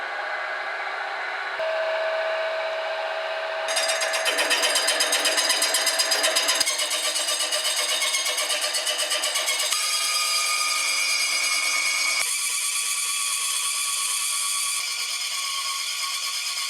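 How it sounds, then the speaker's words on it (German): A milling machine cuts squarely through a Porsche 944 strut, producing a continuous, fairly loud grinding and whining tone that shifts in pitch in several distinct steps as the cut progresses, with no talk. "Wir schneiden es hier auf der Fräse rechtwinklig runter."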